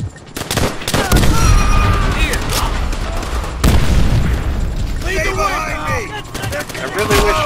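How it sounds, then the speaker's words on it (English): A grenade blast and bursts of rifle and machine-gun fire boom through a Call of Duty: World at War co-op battle, loud sharp cracks and rumbling explosions with brief shouted voices among them. "Grenade!"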